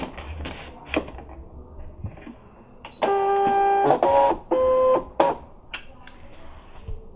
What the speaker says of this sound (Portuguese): E carrego a esteira na máquina.